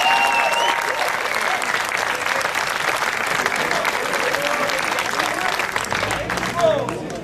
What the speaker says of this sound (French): Je vous demande d'applaudir très fort Éric Turcotte.